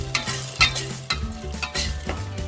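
Tomato sauce simmering with lamb in a pan for a Turkish Iskender kebap, with a steady close sizzle broken by repeated scrapes and stirs at an uneven rhythm.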